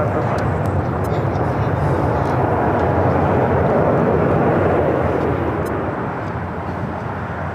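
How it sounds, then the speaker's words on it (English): Roaring jet noise from an Airbus A330 airliner landing on the runway at LAX, a loud, dense broadband rumble that holds steady and then eases slightly at the end. "A330 touching down from Mexico City."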